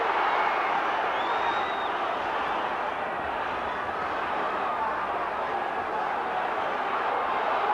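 A boxing crowd roars during a Chris Eubank versus Michael Watson fight, a constant, loud arena din with no break and a few faint whistles rising above it.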